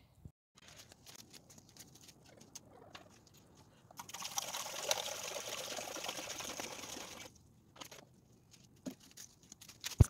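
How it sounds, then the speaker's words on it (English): Water poured from a watering can to refill a chicken waterer at a backyard farm, a steady rushing pour lasting about three seconds mid-clip, close by, with quieter rustling and handling sounds before and after and no talking. "Now I'm going to go refill their water real quick."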